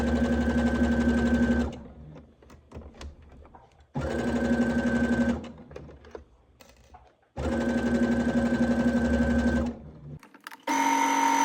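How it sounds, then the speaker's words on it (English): A sewing machine stitches in three steady bursts of rapid mechanical clatter, each a second or two long, separated by quiet pauses. "take this to your sewing machine and stitch it together"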